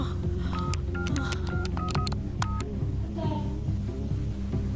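Telephone keypad dialing tones, a quick irregular series of short beeps over a constant low hum, close and moderately loud, with no speech.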